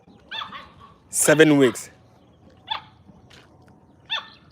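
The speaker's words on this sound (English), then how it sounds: "this dog is really wild" A three-month-old puppy gives one loud bark followed by short yips and whimpers, close by and separated by quiet gaps, while a person speaks briefly.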